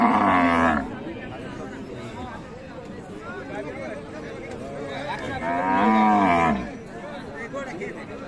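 Friesian dairy cows low at a rural cattle market in Raniganj, Dinajpur, giving two long, loud moos, one at the start and one near the end, over steady crowd chatter and talk.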